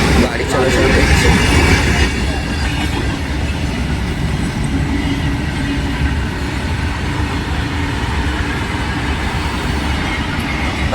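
A goods train rolls past at close range with a continuous loud rumble and rattle of wagons and some wheel squeal, steady for the whole stretch.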